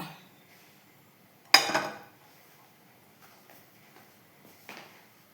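A metal pan is set down on a gas stove with one sharp clatter, then a few faint clinks and a softer knock follow in an otherwise quiet kitchen.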